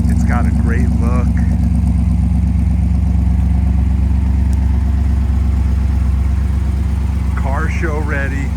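A restored 1957 Ford Fairlane two-door hardtop with a 312 Thunderbird V8 idling, a loud, low rumbling burble held steady throughout, while someone speaks briefly at the start and end.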